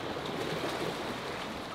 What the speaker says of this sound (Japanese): 波あるよ。 波あるよ。